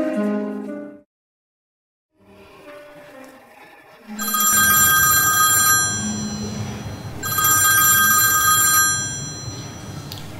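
A telephone rings in a drama scene, two long bright bursts of ringing separated by a short gap, loud and close after a brief quiet pause.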